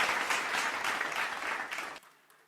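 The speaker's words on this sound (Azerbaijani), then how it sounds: "Məncə zəif oldu elə bil alqışlarınız" A conference audience welcomes a speaker onto the stage with steady, moderately loud applause that breaks off abruptly near the end, leaving a faint fading tail.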